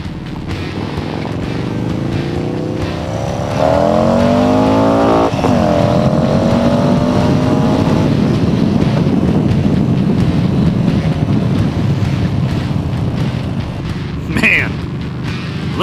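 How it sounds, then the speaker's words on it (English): Motorcycles at a biker campout in Tampa, Florida, engines rumbling close by with one revving up and passing, under wind buffeting and people chatting throughout, then a sharp brief noise near the end. "Look at all these bikes!"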